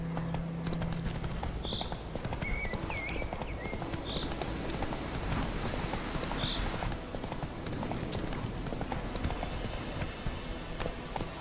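Horse hooves galloping in The Witcher 3 video game: a dense, steady drumming of hoofbeats runs through the whole clip at an even pace, close and loud, with a few faint bird calls and no talking.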